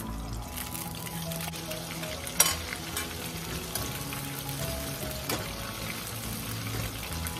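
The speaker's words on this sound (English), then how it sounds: "This time we're gonna fry it crispy, then it's done." Shrimp for honey walnut shrimp fry in hot oil with a steady, close sizzle and bubbling crackle. It runs evenly for several seconds, broken by a couple of sharp pops, with no talking.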